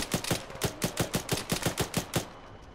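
Gunfire from a ShackTac military game session: a rapid, evenly spaced string of about a dozen sharp cracks, close and loud, firing in a steady automatic rhythm before cutting off.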